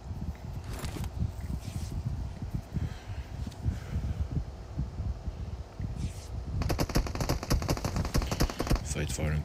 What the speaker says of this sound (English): Fate firing towards Badass